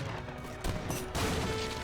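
Cannon fire in an Age of Empires 3 match, hitting a villager, heard as several heavy booming blasts over a steady background of battle din, moderately loud and fairly close.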